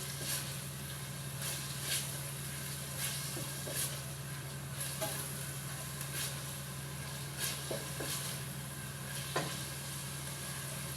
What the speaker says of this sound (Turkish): bol soğanlı. Şöyle kıymalarım kavrulsun.